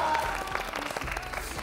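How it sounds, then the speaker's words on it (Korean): Applause from a studio audience at a Korean idol group debut showcase for K-Tigers Zero, steady and dense clapping throughout, with a faint voice underneath. "박수로 큰 의미를 드리도록 하겠습니다"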